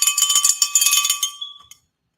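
A bell struck during a trivia game rings out bright and metallic, a dense cluster of rapid strikes blurring together before the tone rings on and fades away.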